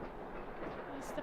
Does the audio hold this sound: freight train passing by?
yes